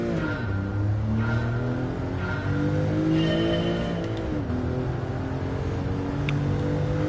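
A stock Porsche race car engine in Gran Turismo 7 revs up and down through gear shifts, loud and close, with rising and falling whine and no talking.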